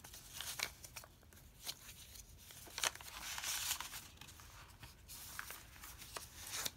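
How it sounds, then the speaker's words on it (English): Sheet of paper folding out from a handmade book, giving soft crinkles and papery rustles in irregular bursts, quiet and close, with no talking. "This is a sheet of paper that folds out."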